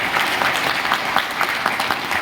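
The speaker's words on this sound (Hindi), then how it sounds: "एक बार जोरदार तालियां सर के लिए" Hearty applause from an audience at an AWPL company gathering, honoring the Mahaguru: dense, steady clapping at close range, with no voices over it.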